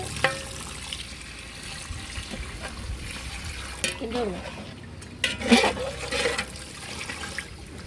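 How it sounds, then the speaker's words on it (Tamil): Water is poured onto rice in a pot for chicken biryani, a steady splashing pour at close range with some clattering in between, while someone talks over it. "அரிசிக்கு மூணு கிளாஸ் தண்ணி எடுத்துருக்கேன் இப்போ தண்ணி சேர்த்துக்கலாம்"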